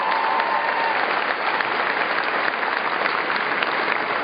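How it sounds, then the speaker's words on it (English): Graduates at a Spring Convocation ceremony receive loud, sustained applause from a large crowd, a dense, even wash of clapping that holds steady throughout. "Let's give those kids another round of applause."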